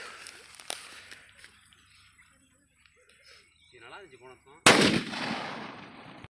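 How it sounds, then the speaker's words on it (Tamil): A 6-inch Valangaiman rock firecracker goes off outdoors with one sharp, very loud bang, followed by a long rumbling decay and crackle, after quiet moments and some distant background voices. "அடுத்து வந்து பார்த்தீங்கன்னா ராக் வெடி 6 இன்ச்சு."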